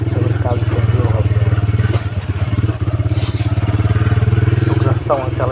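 A motorcycle rides over a rough, broken road with potholes, its engine a steady close throbbing drone with occasional rattles and jolts, while a person talks over it.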